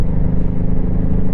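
A Honda Shadow Sabre 1100 V-twin motorcycle engine lugs along at low revs while riding, a loud, close, continuous deep throbbing rumble with wind buffeting.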